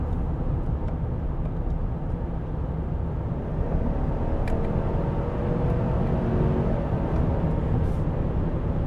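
A 2022 Chevy Silverado Z71 LT pickup's engine drones steadily and fairly loud from inside the cab, its pitch climbing gradually as it revs higher after a downshift, with no one talking.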